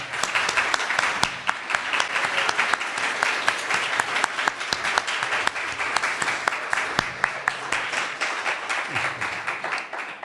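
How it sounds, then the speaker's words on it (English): Sustained audience applause for students: many people clapping continuously and loudly for about ten seconds, with sharp individual claps standing out from the dense crowd sound. "So please, can you give them a round of applause?"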